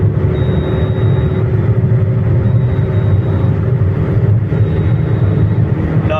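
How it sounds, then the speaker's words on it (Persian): A Quick compact car in fourth gear at full throttle near 120 km/h, with freshly balanced tires and the air conditioning running. A loud, steady engine and road drone fills the cabin without a break, and no one talks. "پا رو تا آخر فشار دادم روی گاز."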